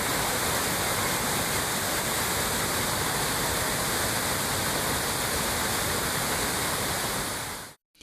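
Suruli waterfall roars after heavy monsoon rain, a loud, dense, unbroken rush of falling water that fills the whole span before cutting off abruptly at the end.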